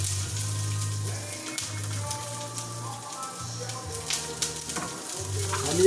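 Garlic and onion sauteing in a hot pan, a close, steady sizzle with stirring and scraping, alongside a low intermittent hum.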